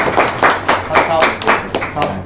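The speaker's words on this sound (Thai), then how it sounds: "ขอเสียงปรบมือที่ถูกต้อง" An audience claps together at a gathering of the Ubon Ratchathani provincial civil society coordination centre, with several quick bursts of hand claps close by and overlapping, repeating in an uneven rhythm for a couple of seconds.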